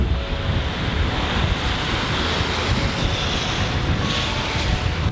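Loud, constant wind buffeting the microphone, a dense roaring rumble with surf-like wash behind it and no voices.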